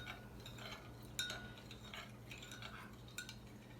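Faint clinks of a spoon stirring vanilla oleoresin into a watery homemade makeup remover mixture in a jar, a few light taps against the glass at a quiet, close distance.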